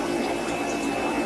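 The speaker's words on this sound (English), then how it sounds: "this container here that I'm going to fill with aquarium water" Aquarium water pours into a container in a steady, continuous splashing rush that stays even in level throughout, close by and with no voices.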